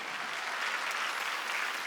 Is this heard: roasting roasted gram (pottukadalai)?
no